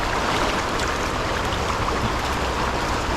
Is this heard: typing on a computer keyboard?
no